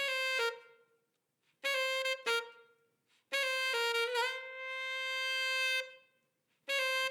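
A processed saxophone plays a few sustained notes in separate phrases, clean and close, with short silences between them.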